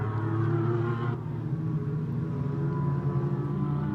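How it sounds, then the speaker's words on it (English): Callaway Corvette GT race car engine during a GT America race at Sonoma Raceway, a loud continuous roar that eases off after the first second into a steadier, lower drone, with no talk over it. "Mirko Schultes rolling out that Callaway Corvette once again, and we're happy to have him back with it as well. It looks great, sounds even better."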